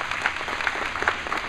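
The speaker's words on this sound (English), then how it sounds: "give yourselves another round of applause" An audience at a Walk for Education presentation at Zion applauds steadily, a dense wash of many hands clapping at moderate distance that holds for the whole stretch with no voices on top.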